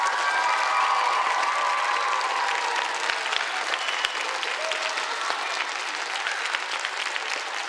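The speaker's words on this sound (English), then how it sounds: "give them a loud round of applause for everything they've done so far this morning" A crowd at a state robotics championship gives a long, loud round of applause, a thick, even wash of clapping and some cheering that holds at full strength throughout without any talking.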